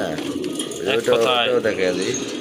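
A red Danish pigeon cooing up close in soft repeated throaty rolls, with a person talking over it.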